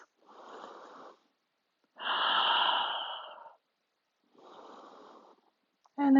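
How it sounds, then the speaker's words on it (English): Slow, deep breaths during a standing yoga twist: three soft, airy breath sounds, the middle one longer and louder, each separated by brief silence, close and alone. "Take 2 more breaths."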